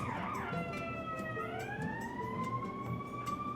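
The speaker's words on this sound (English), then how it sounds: "Sirens." A wailing emergency siren rising and falling in pitch, loud and continuous over steady traffic rumble.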